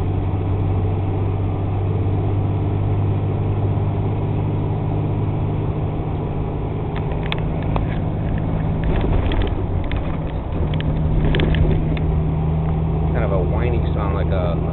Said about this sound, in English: You can really hear the turbo in this engine here.